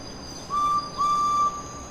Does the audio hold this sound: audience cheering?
no